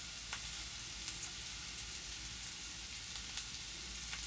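Crushed garlic fries on low heat toward golden brown, giving a faint, steady sizzle with soft crackling pops scattered through it.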